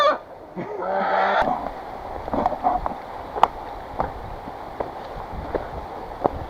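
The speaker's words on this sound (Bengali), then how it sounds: "তা ওখানে মুরগি পেলাম, দেশি পাহাড়ি মুরগি" A native hill chicken on a hill trail clucks and squawks in a loud burst at the start, followed by scattered softer calls and rustling in the open.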